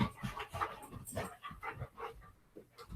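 A dog pants rapidly up close, broken by thin whimpers and soft snuffles in an uneven run of breathy bursts.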